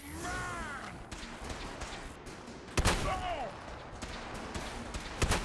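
Gunfire in Fallout 4 combat: scattered sharp shots with a couple of loud cracks standing out, mixed with other game sounds while someone talks over it.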